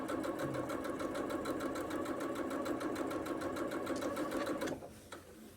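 A sewing machine stitching quilt fabric for a toddler's scrappy spotty quilt runs in a fast, steady mechanical chatter close up, then stops abruptly near the end, leaving quiet room noise.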